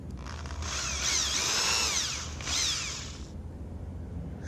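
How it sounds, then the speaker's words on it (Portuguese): A power drill bores a hole through plastic and into MDF while fitting a custom phone holder in a 1997 Kombi pick-up, its high whine rising and falling over about three seconds, close and steady, then stopping. "Vou fazer mais um furo pra ter uma melhor sustentação."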